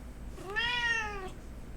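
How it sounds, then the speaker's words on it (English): A single clear, rising-then-falling cat meow from a female house cat, fairly faint and alone over a low background hum, with no talking. "My cat still wants attention. She's meowing."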